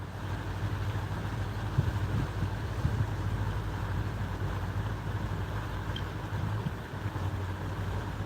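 The catamaran Glacier Bay underway, a steady, dense engine drone and rushing water noise holding at an even, fairly loud level throughout, with no voices.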